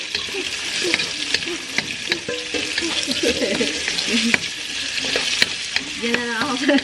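Hot oil crackles and pops in a frying pan, a dense steady sizzle with scattered sharp spits, close and fairly loud, with no talking over it.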